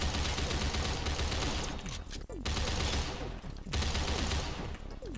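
Battle rifle gunfire in a first-person shooter game, dense rapid bursts that are loud and continuous, broken by two brief pauses, with no talking.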